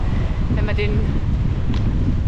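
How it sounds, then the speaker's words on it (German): Strong headwind buffeting the microphone while cycling downhill on an alpine pass road, a steady low roaring rumble throughout with a person speaking briefly over it. "weil der Wind so dermaßen stark ist, dass es echt anstrengend ist, dagegen anzufahren"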